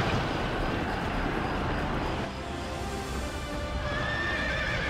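Horses in a battle of Nobunaga's Ambition: Awakening give a loud whinny over the rapid clip-clop of galloping hooves, a busy, close rush of sound with no voices over it.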